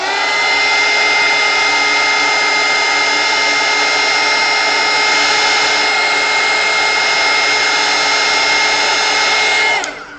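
Loud, steady whirring of a heat gun blowing hot air across a piece of artwork, a constant motor whine and rush of air running unbroken with no voices, then stopping abruptly near the end.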